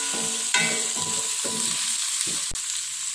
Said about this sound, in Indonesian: kita tumis dulu dagingnya dengan bumbu ini sebentar.